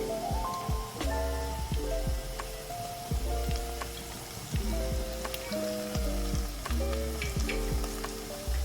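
Ginger garlic paste and green chillies sautéing in a pan for restaurant-style veg biryani, a steady close sizzle with repeated metallic scraping and knocking of a spoon against the pan, no talking.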